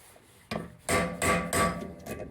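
Hammer blows striking a screwdriver wedged against brake parts on a 2003-2005 Acura TSX, five sharp metallic hits in an uneven rhythm, close and loud with no talking.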